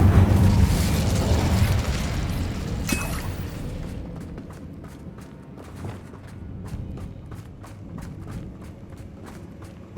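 An Incendio fire spell in Hogwarts Legacy gives a loud roaring burst of flame that rumbles for about three seconds, then fades into quieter rhythmic footsteps and light movement.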